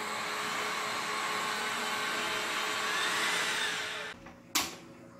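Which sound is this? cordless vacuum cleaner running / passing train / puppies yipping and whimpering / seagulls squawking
cordless vacuum cleaner running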